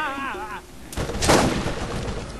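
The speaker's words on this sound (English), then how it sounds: "Who's the guy shooting us?" Gunfire aimed at the player in the video game Borderlands, heavy booming shots following a wavering electronic game tone, loud and close.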